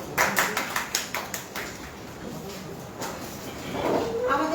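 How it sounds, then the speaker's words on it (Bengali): An audience at a book fair event claps for the publishing industry in a short burst of rhythmic applause that fades within a couple of seconds, followed by low room murmur and a voice. "তাই আমরা প্রথমেই প্রকাশনা শিল্পের জন্য একটি হাততালি"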